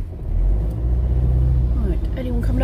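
A lorry passes on a wide town high street, its heavy engine rumbling loud and close throughout with some revving, while a voice speaks over it.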